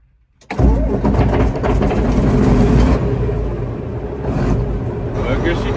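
A John Deere 8630 tractor engine, just serviced with new oil and fuel filters, cranks and catches after a quiet moment, then settles into a loud, close, rough diesel idle with some throttle variation.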